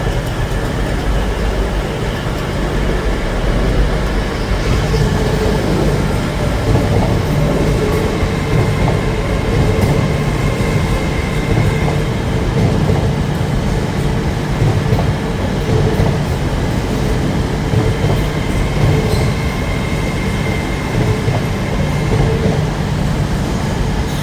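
An LNER Azuma train moving through York station, a steady loud rumble of rolling wheels and carriages sustained throughout with occasional rail clatter.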